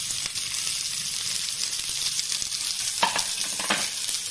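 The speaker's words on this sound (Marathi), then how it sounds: "कांदा थोडासा नरम होईपर्यंत 1-2 मिनिटं परतून घ्यायचं" Onion frying in a pan with garlic, green chillies and ginger for palak paneer, a loud continuous sizzle with occasional scrapes and stirring knocks.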